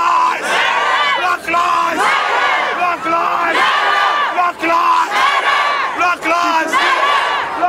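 A street protest crowd chanting "Black Lives Matter" in call and response, loud rhythmic shouted phrases repeating in regular bursts with brief pauses between them.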